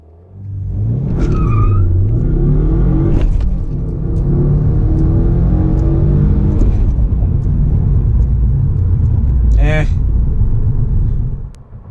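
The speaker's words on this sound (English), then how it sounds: "I made a tire squeal though" A car launches hard for a 0 to 60 run, engine rumbling loudly and steadily up close for several seconds, with a brief high tire squeal near the end before the noise drops away.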